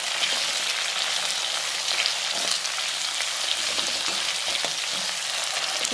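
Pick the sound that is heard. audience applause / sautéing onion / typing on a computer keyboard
sautéing onion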